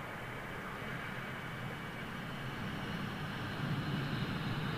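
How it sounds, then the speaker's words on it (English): A Finnair Embraer jet departs London Heathrow, heard as a faint, steady, distant broadband jet roar that swells slightly toward the end, with no talking. "Get the little fin air Embraer going out."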